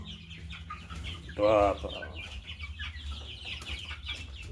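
Chickens in a poultry coop, with a burst of loud close clucking midway over softer background clucks and farm noise, while a person speaks briefly.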